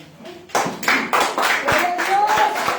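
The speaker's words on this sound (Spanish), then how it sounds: "Ese aplauso tan pobre, diga." A church congregation claps during a worship service: sharp rhythmic claps at a steady beat, near and loud, with voices singing or calling out beneath them.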